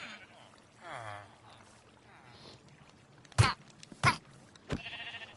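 Several short bleats like sheep sound out in a video game, mixed with soft game-like background noises, loud and close in quick succession.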